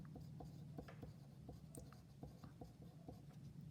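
A pencil drawing a horizon line on paper for a one-point perspective drawing, heard close and quiet as a run of soft, scratchy strokes with light taps and no talking.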